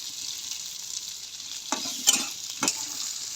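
Kachori filling of fresh pigeon peas sizzles and crackles steadily in a hot pan, with a few sharper scraping stirs of a spoon cutting through the frying hiss.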